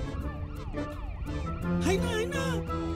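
An ambulance siren in a Nepali film scene, a close, loud wailing tone sweeping up and down in repeated cycles, with other layered sound and clatter underneath.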